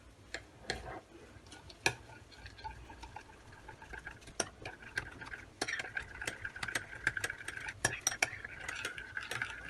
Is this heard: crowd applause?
no